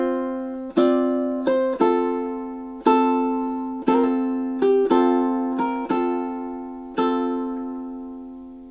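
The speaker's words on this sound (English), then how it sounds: "let's have a go at playing those four measures through together now" Ukulele strums through four measures of March of the Toreadors, about a dozen bright chords struck one by one in a steady, unhurried rhythm, each ringing out and fading before the next, played alone with no voices.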